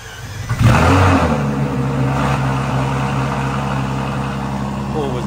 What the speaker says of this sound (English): Listen to the LaF startup first.